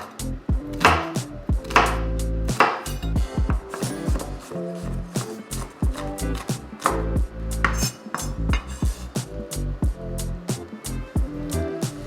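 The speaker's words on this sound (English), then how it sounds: "start chopping my onion here" A knife chops a whole onion on a cutting board with rapid, uneven thuds and crisp cuts, close and loud, with no talking.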